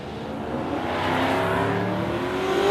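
Drag racing Ute and Fairlane launching side by side at Warwick Dragway, engines roaring and climbing steadily in pitch as they accelerate away, loud and close throughout.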